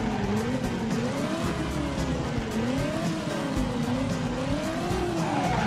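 A car drives in the PS1 game Driver 2, its engine droning steadily with a wavering pitch that rises and falls, with faint tire noise underneath and no one speaking.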